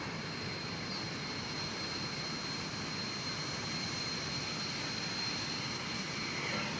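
An American Airlines Boeing 787-9 Dreamliner landing at DFW Airport, heard as a faint, steady jet roar with a thin high whine running through it, distant and continuous.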